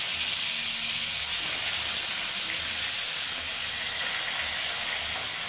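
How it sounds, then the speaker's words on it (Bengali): A tilapia fish fries in hot oil for a Bengali tel jhal curry, giving a loud, continuous sizzling hiss with no talk. "দেখো, তেলটা কিন্তু গরম হচ্ছে হালকা। এবারে মাছটা দিয়ে দিচ্ছি।"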